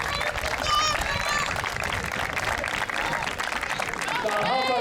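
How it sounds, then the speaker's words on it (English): Audience applause at the Derby High School Athletic Hall of Fame ceremony for the class of 2018, a steady wash of clapping filling a hall, with cheering and talk mixed in. "How about a big round of applause for all the members of the Derby High School Athletic Hall of Fame class of 2018."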